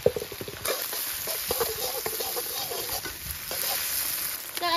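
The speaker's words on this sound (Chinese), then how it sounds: "肉炒熟之后倒入大蒜和泡椒" Meat frying in oil in a wok, with garlic and pickled chili stirred in and spicy sauce going in next, making a steady close sizzle with repeated scraping and stirring strokes, and no voices.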